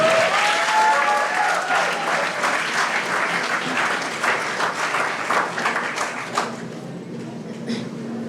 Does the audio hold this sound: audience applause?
yes